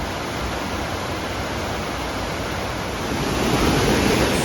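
Ryuzu (Dragon's Head) Waterfall in Nikko rushes with a steady, powerful roar of falling water, a continuous broadband wash that swells slightly louder toward the end.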